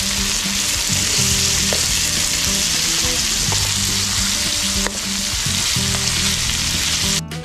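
Onions, peppers and summer sausage fry over a campfire with a steady, close sizzle, punctuated by scattered pops and occasional stirring scrapes, with no voices.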